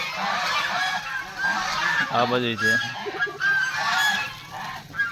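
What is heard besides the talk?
geese honking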